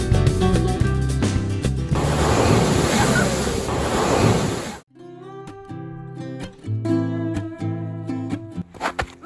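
Ocean waves wash onto a small Algarve beach in Portugal, a loud steady roar of surf with wind noise on the microphone, then music takes over partway through.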